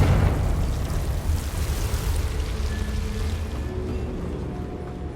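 A Confringo blasting spell explodes in Hogwarts Legacy, a loud low booming burst at the start that rolls into a sustained rumbling roar, with no talking.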